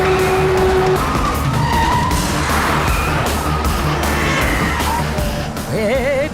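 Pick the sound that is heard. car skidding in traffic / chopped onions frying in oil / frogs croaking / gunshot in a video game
car skidding in traffic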